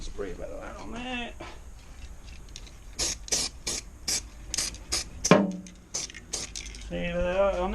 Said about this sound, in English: Spray a bit of that on there.